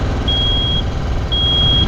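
Warning alarm on an Easy Lift R180 compact 18 m spider lift, two steady high-pitched beeps over a low machine hum.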